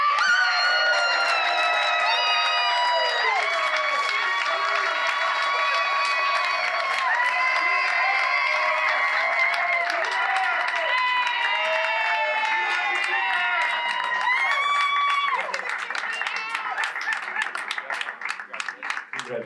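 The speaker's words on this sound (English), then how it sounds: "Can I get a round of applause for Darren Murphy?" Awards ceremony crowd applauds and cheers loudly for a long stretch, with whoops and shouts rising over dense clapping before it thins near the end.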